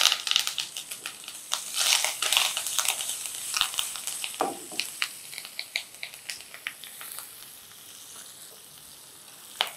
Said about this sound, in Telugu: తర్వాత 2-3 పచ్చిమిర్చి చిన్న ముక్కలు తరిగి తాలింపులో వేయండి